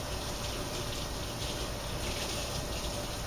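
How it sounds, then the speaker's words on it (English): Kitchen tap water rushing steadily while hands are rinsed under it, a close, continuous hiss of running water with no break. "let me rinse my hands real quick here"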